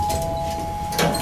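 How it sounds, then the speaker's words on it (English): A 2004 ThyssenKrupp machine-room-less traction elevator in Oslo sounds its arrival chime, a steady electronic tone held throughout, with a short noisy burst near the end. "I don't like the chime."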